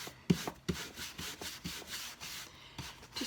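A cloth rubs wax into a decor item painted with clay-based paint, giving soft, close scrubbing strokes in a quick, steady back-and-forth rhythm with no talk.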